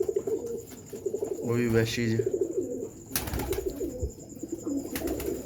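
Pigeons kept in a breeder's loft give a few soft, throaty coos, close by, mixed with scattered bird chirps while someone talks over them.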